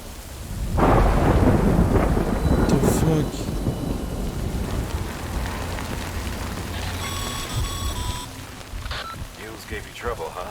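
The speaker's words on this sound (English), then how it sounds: "Good thing it was raining." Rain and thunder in the video game Death Stranding, a loud rolling rumble over steady heavy rainfall, with a brief electronic beeping tone partway through.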